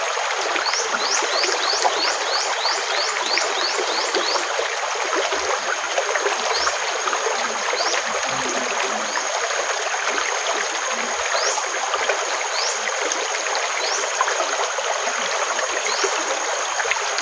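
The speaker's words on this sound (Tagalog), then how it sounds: "Napakalakas ng ulan mga idol." Steady, dense hiss of heavy rain with rushing water running continuously throughout, loud and close, with faint chirping birds in the background.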